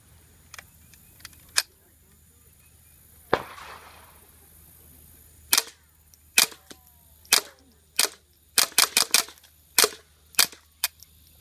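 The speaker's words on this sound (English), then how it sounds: "testing the new Gemtech Mist-22 integrally suppressed 1022 barrel" A Ruger 10/22 with a Gemtech Mist-22 integrally suppressed barrel fires CCI subsonic rounds outdoors, giving a dozen or so sharp, muted cracks. The shots come singly and irregularly at first, then in quicker bursts, with quiet gaps between.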